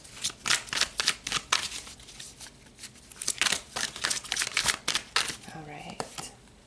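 Tarot cards being shuffled by hand in quick crisp riffling bursts, a close papery flutter repeated several times with short pauses, and a faint voice briefly audible near the end.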